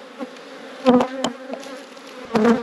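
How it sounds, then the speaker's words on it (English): Honey bees hum around hive boxes, a steady low drone broken by a few louder buzzes as single bees pass close. "I'll blow the bees out of this bottom box now"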